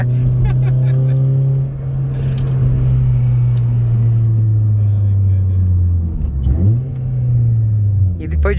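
A Honda Civic Si engine revs hard with gear changes and rev-limiter cuts, the pitch climbing, dropping and surging again, loud and close, with voices faintly underneath.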